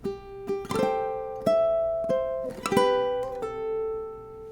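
Plucked ukulele notes and chords play a more complex arrangement of the Happy Birthday melody, gentle and slightly busier, with quick grace-note flourishes between sustained ringing notes.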